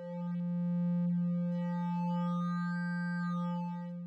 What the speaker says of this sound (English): This sounds a bit like oscillator hard sync.